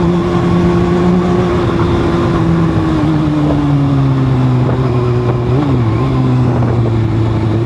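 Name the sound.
Kawasaki Z1000 motorcycle engine revving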